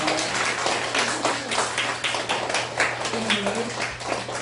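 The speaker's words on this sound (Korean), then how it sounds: "박수로 환영합니다." A church congregation claps to welcome first-time visitors at a worship service, a busy, continuous patter of many hands with scattered sharper claps, moderately loud and steady, a low hum underneath.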